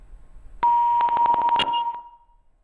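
A live phone-in call on a farming TV programme drops, leaving a steady electronic beep with rapid pulsing repeats that trails off into quiet.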